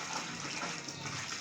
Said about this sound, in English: So you can add more water to your taste